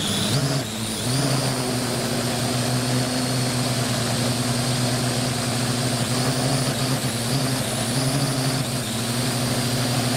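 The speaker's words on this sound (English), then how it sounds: "hold this drone level as we take off from the cellar" A small drone lifts off from an archaeological cellar dig, its propellers giving a loud, steady, close buzzing drone with sustained tonal whine that holds throughout as it struggles to climb.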